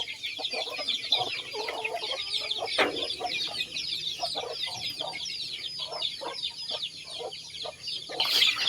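Native chickens cluck and chirp continuously in a farm pen, many birds at once, with soft peeping from chicks and a busy steady chatter close by.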